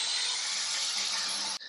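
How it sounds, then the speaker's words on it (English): A chainsaw runs steadily in a neighbour's backyard, a continuous high whining buzz heard from indoors that cuts off abruptly near the end. "my neighbour to the left has started using a chainsaw in his backyard"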